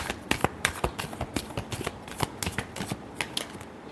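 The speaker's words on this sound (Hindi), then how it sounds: "Last shuffle." Tarot cards shuffle rapidly in the hands, a close, steady run of crisp riffling flutters and soft slaps lasting a few seconds with no talk.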